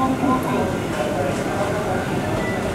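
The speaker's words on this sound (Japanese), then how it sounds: "まもなく1番線を電車が通過します。" An out-of-service train passes platform 1 at Hanshin Amagasaki station, a loud, steady rumble and roar filling the scene throughout, with an automated platform announcement talking over it.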